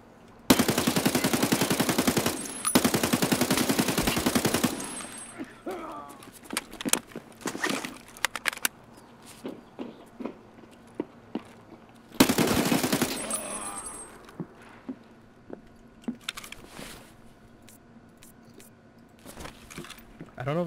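Rapid automatic gunfire in an Escape From Tarkov match, loud bursts of rattling shots near the start and again midway, with scattered single shots and voices talking between them.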